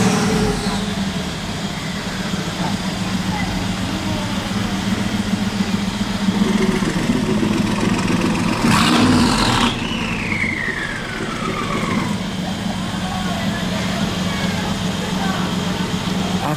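A Bugatti Chiron Sport started by a valet, its valves closed, idling with a deep steady drone and one rising rev swell near the middle, up close and loud, with voices talking over it.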